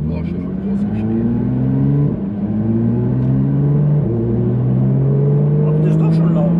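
Porsche GT3 RS engine revving up in repeated climbing pulls that drop back and rise again, loud and close, with a voice talking over it.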